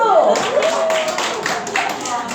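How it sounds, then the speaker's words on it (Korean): Children in a church preschool winter Bible school clapping, a brief burst of scattered claps heard over a voice speaking. "야 박수!"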